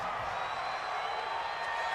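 Stadium crowd in an American football video game, a steady loud wash of distant roaring fans with no break.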